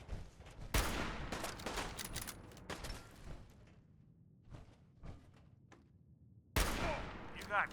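Laser gunfire in Fallout 4 combat, several sharp bursts of shots with a loud volley at the start and another near the end, scattered quieter zaps between and a voice talking over parts of it.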